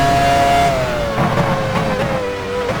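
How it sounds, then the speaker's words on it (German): An F1 car's engine in the F1 Challenge 99-02 racing game at Spa-Francorchamps, 2001 Belgian Grand Prix, driving into the pit lane: a steady, loud high-pitched whine that drops slowly in pitch, alone. "Heidfeld fährt in die Boxengasse."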